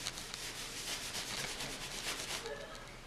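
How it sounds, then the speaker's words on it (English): Cloth rubbing wood stain thickly onto a wooden farmhouse table, a soft continuous scrubbing swish in repeated strokes, close but quiet, with no talking. "we're gonna rub it and put it right over"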